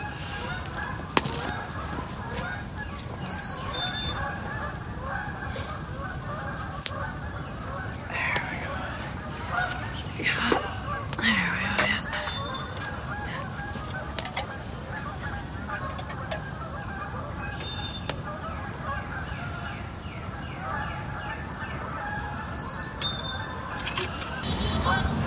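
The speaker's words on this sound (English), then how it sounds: "The geese have calmed down a little bit." A flock of geese honks continuously at a bushcraft campsite, with loud, overlapping calls over a busy outdoor background throughout.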